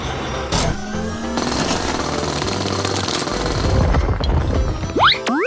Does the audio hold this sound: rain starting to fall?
no